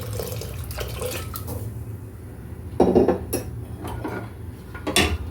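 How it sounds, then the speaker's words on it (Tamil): Kitchen clatter of pots and utensils with water splashing into a pot of dal, a louder pour burst midway over a steady background hum. "இதில் இன்னும் கொஞ்சோண்டு தண்ணி ஆட் பண்ணிடலாம்."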